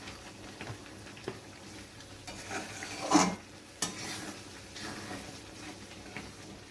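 Spice masala seasoned with salt, without turmeric, being stir-fried in a pan for a paneer dish: soft steady sizzle under intermittent spoon scrapes and clinks, with one louder clatter midway.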